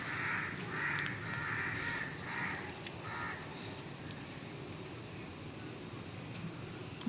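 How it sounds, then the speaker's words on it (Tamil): Several crows caw loudly and repeatedly at a monkey that has come into a tree, their harsh calls overlapping in irregular bursts over steady outdoor background hiss, with no talking. "எல்லா காக்கையும் கத்துது"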